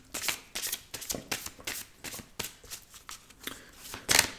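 Oracle cards of the angels-of-love deck being shuffled by hand in a quick run of crisp riffling flicks and soft slaps, close and clear, with a sharper burst near the end and no talking.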